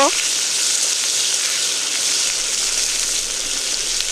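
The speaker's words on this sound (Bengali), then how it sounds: "কেটে রাখা পেঁয়াজ কুচো দিয়ে দিলাম ওই ফড়ঙের মধ্যে এরপর নেড়ে চেড়ে নেব" Chopped onion sizzles in hot oil with bay leaf and dried chilli for a Bihari egg curry, a dense, steady frying hiss close up.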